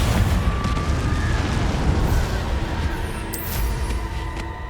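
Bombarda and Confringo spell explosions in the video game Hogwarts Legacy, a loud continuous roar of blast noise and rumbling debris with no separate quiet gaps.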